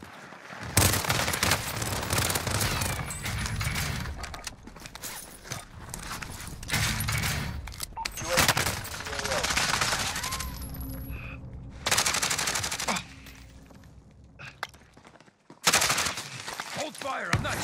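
Rapid bursts of automatic gunfire crackle through a firefight in the video game Warzone, loud and dense, with brief gaps between volleys and voices calling out over the shooting.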